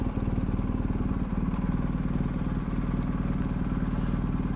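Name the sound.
BMW R1250 GS Adventure motorcycle engine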